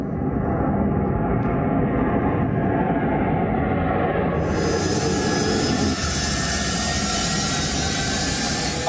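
Loud roar of a US Air Force jet taking off from Afghanistan, a continuous powerful engine rush that swells and brightens partway through, heard close with no voices.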